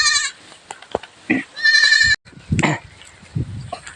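Several goats bleat in short, overlapping calls at close range, with brief pauses and a few soft knocks between them.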